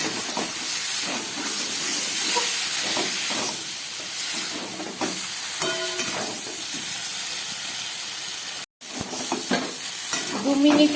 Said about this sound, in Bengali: দু মিনিটের মতো কষিয়ে নিলাম ডাল আর চাল সিদ্ধ দেবার পরে।